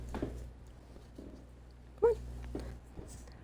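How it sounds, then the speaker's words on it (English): A pet dog whimpers softly indoors, a few faint high whines scattered across a few seconds, with one brief louder yelp near the middle over a low background hum. "So that was our dog, Murray."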